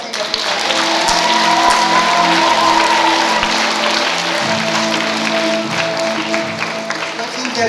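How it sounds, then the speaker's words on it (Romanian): Children in a pastoral choir applaud themselves at a December concert, dense continuous clapping for several seconds with crowd murmur and a voice underneath. "Felicitări, dragă, aplaudați-vă!"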